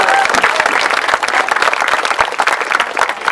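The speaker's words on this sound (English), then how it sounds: "Please, please, everybody, give a round of applause for Rich Craffey." An audience claps loudly and continuously at a primary school buddy bench dedication, a dense, close round of applause.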